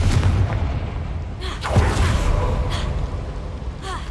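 The Confringo fire spell explodes in the video game Hogwarts Legacy, a deep boom with crackling debris amid busy game sound effects, with a whooshing burst partway through.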